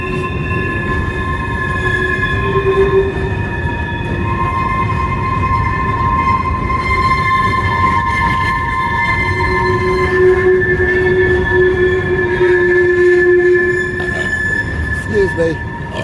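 A passing train's wheels squeal continuously, with sustained high-pitched, wavering tones and a rumbling rail noise underneath lasting throughout, loud and close.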